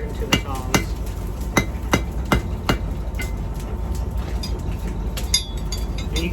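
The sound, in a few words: hammering a taper on a steel bar for riveted tongs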